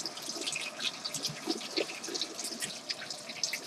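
Hot water runs from a kitchen tap into a container for a rice cooker, a soft continuous splashing and trickling stream heard fairly faint and close, with no talk.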